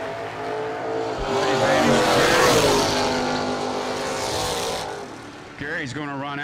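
An 88 Buick and a 69 Mustang launch side by side at a bracket drag race, engines roaring loud and close, then fading as they pull away, with a brief squeal near the end.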